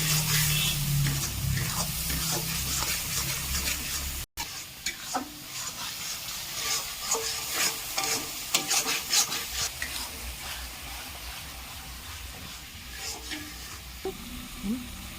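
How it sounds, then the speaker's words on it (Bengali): Spice masala with salt and turmeric for a rohu fish curry is stirred and sautéed in a pan, a close rasping sizzle with rhythmic spoon scrapes and a brief cut early on; no speech. "মশলাটা আমার কষানো হয়ে গেছে"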